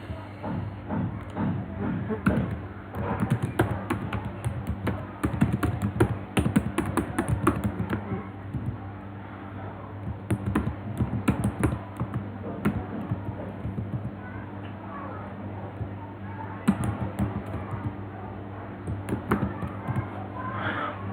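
Keys tapped on a computer keyboard while entering an organization name during an Apache Tomcat SSL certificate renewal, a quick irregular clatter in bursts over a steady low hum, with faint talk in the background.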